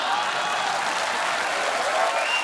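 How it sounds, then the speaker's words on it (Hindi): A studio audience at a comedy talk show bursts into steady, dense applause mixed with laughter, a loud continuous wash of clapping filling the whole moment. "कुछ भी नहीं कहना फिर भी ताली और हंसी"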